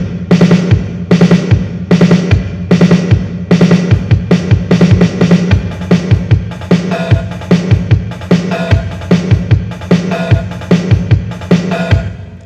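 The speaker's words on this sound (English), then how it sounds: "for the drum track for this song, it's the Roland TR-8S, and I'm using the 626 kit" A Roland TR-8S drum machine on its 626 kit plays a steady, punchy drum pattern with regular kick hits and bright hi-hats and snares, a loud, even house-style groove with no voices.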